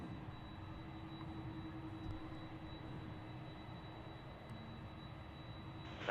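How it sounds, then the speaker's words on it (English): A jet airliner arriving at Seattle airport on a flight from Anchorage gives a faint, steady engine drone. The roar holds distant and even throughout, with a steady high whine on top and no voices. "So here comes the Anchorage flight."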